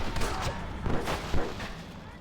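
Gunfire from Red Dead Redemption comes as a short burst of several muffled, booming shots, loud and close in a cluttered game soundscape.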